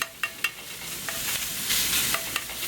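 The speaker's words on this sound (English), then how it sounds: "we're going to brown up that sausage" Sausage browning in a pan over a hot outdoor grill fire, a steady crackling sizzle with sharp pops and scraping stirs, close and unaccompanied by talk.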